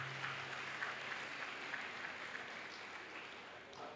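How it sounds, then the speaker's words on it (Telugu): Faint, steady applause from a church congregation at a jubilee celebration in Saligramapuram, Visakhapatnam, a soft continuous patter of clapping heard from a distance. "ఆయనకి చప్పట్లు కొట్టాను"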